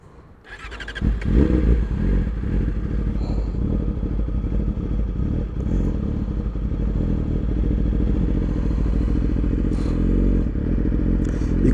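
A Yamaha R6 sport motorcycle with a check engine light on cranks and starts, then settles into a steady, close idle with a slightly uneven, rough-breathing rhythm and occasional mechanical clatter.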